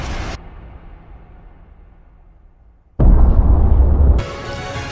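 Loud, deep explosion as moon fragments crash down in a Naruto anime battle. A rumbling low-end burst cuts in suddenly after a quiet, fading stretch, then drops back to a softer roar.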